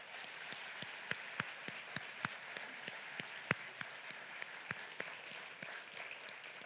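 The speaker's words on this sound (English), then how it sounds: "A round of applause for them." Theatre audience applauding at an evening charity concert, a soft, steady wash of many hands clapping with a few sharper individual claps standing out, moderately distant and fairly quiet, with no voices over it.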